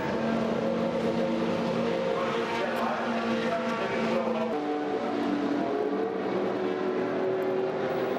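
A race car, a green Lotus Elan in an endurance race, idles and pulls into the pit stop at Sebring, its engine a steady mid-pitched drone that shifts tone partway through, with pit-lane noise around it.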